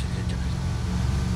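A car engine hums steadily in the Arma 2 DayZ mod game, a continuous low drone of driving that fills the short moment without any break.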